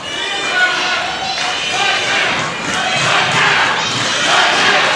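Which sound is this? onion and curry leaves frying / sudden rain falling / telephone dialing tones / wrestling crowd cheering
wrestling crowd cheering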